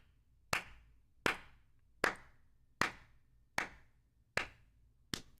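A single person giving a slow clap, seven sharp, evenly spaced claps roughly once every 0.8 seconds, close and crisp with short decaying tails, no other sound.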